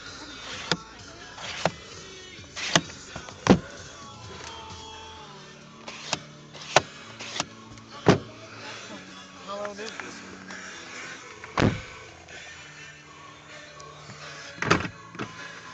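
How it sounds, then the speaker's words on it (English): Driver's side automatic power window on a 2011 Toyota Camry, a quiet motor whir among clicks and thumps inside the car, with people talking throughout. "It's got an automatic driver's side window."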